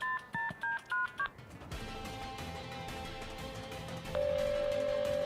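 Telephone number being dialed: a quick run of five touch-tone beeps, then a hissy line hum, ending in a steady tone at the close.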